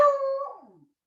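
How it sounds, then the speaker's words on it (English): One drawn-out dog howl starts sharply and slides downward as it fades over roughly a second, heard alone and fairly close. "I'm gonna put you in your crate if you keep barking."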